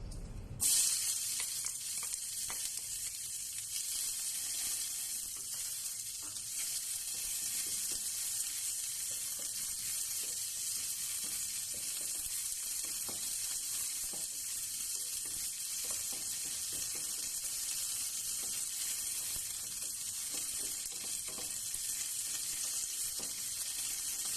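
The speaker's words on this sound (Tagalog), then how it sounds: "continue lang natin i-saute yung ating onion dito" Onion sautés in a hot pan, a continuous bright hiss of sizzling frying that runs steadily and evenly throughout, close by with no talking.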